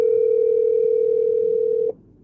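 A steady telephone ringback tone on an outgoing call holds loud and unbroken for nearly two seconds, then cuts off abruptly, leaving quiet background.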